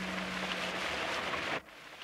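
Steady, dense rain hiss close by that cuts off abruptly near the end, leaving a quieter wash of drizzle.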